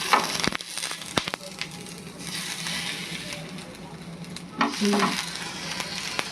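Bhetki fish paturi parcels set one by one into a hot, oil-brushed pan on a gas flame, a steady close sizzle with scraping and a louder surge of frying as another parcel goes in.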